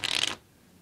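A quick riffle of playing cards being shuffled, a short fluttering burst close by that stops abruptly.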